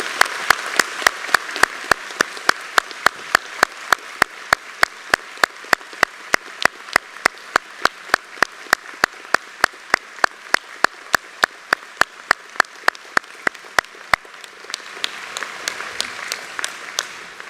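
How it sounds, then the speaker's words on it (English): A graduation ceremony audience for the Faculty of Engineering and Information Sciences claps for graduates, with soft, diffuse applause underneath a sharp, evenly spaced ticking that runs through most of the clip before fading out. "join me in giving a very warm round of applause to congratulate our graduates"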